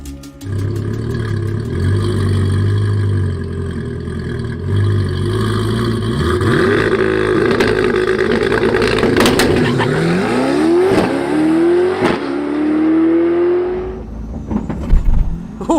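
A 1300-horsepower Corvette C8 prototype roars hard under acceleration, its engine note sweeping upward through several sharp gear changes, loud and close, with no talk over it.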